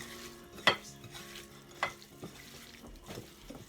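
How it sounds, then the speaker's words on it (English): King prawns with all-purpose seasoning and black pepper being stirred in a pan, with a soft ongoing sizzle broken by a few sharp utensil scrapes and knocks against the pan. "So we're just gonna stir it, mix that right up."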